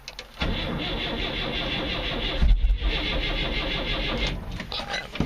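A 1965 Datsun engine cold-starting on choke catches after a brief crank and settles into a loud, rough, steady run, surging once mid-way before evening out.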